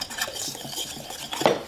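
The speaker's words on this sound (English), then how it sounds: "Now, I'm just going to give this a little mix here." Cornbread batter mixed in a bowl, a quick run of spoon clinks and scrapes against the bowl over a second or two, close and moderately loud.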